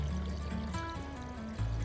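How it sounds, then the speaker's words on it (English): Plain tap water is poured into a rock tumbler barrel of rocks, making a close, steady gurgling pour that rises in pitch as the barrel fills. "So the water goes into just below the level of the top rocks."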